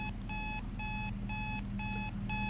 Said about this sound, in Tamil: அலாரம் ஆஃப் பண்ணு.